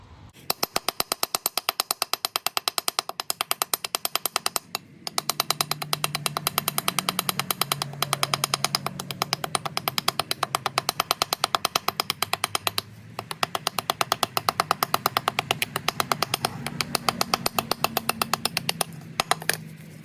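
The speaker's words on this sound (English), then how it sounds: "basically chisel everything away here and on here, starting with a hammer in my case" Rapid metallic hammering on a 9th-generation Honda Civic front brake rotor to chisel off rust, a fast steady stream of sharp strikes close by, continuing almost without pause with a couple of brief breaks.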